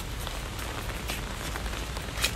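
Steady rain falls outdoors during a storm with gusty wind among rubber trees, a continuous broadband patter with a few sharper drops, alone and without talk.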